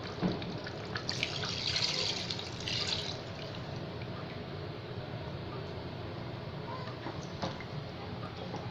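Coconut milk, pressed from half a coconut, pours into a pot of home-style chicken curry, giving a steady liquid splash and trickle at moderate level with faint kitchen clatter.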